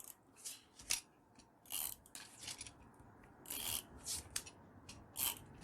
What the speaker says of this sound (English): I'm just going to use my tape runner.